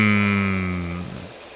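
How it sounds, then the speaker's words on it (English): Pressure washer spraying water in PowerWash Simulator, aimed inside a vehicle's engine: a loud, steady hiss with a humming tone that fades out after about one second, leaving near silence. "Make sure to get water all the way inside that engine."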